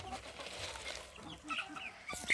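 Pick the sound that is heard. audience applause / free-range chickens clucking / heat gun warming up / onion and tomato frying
free-range chickens clucking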